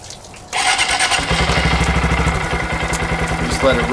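A 2022 Honda Monkey 125 motorcycle fires up after an oil and filter change and settles into a steady, close idle with a rapid, even thumping beat.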